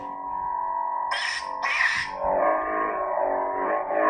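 A Neopixel lightsaber's rainbow-effect sound font: a steady, effect-laden electronic hum with two bright, distorted swing surges in the middle, close and loud with no talking.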